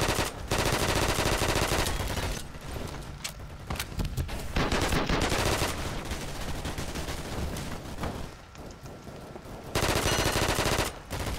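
Rapid, loud bursts of gunfire from the video game Double Action fill the whole stretch, dense and continuous with only brief lulls, heard without talk.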